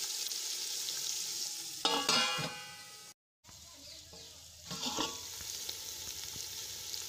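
Steady sizzle of onions and chopped tomatoes frying in oil in a pan over a clay stove, with bursts of stirring and scraping, broken by a brief silent gap, no voices.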